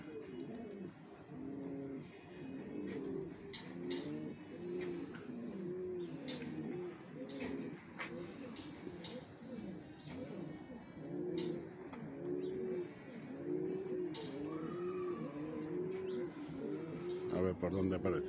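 Pigeons in a pigeon loft coo in repeated low, rolling, throaty phrases, close and continuous, with sharp clicks and rustles scattered throughout.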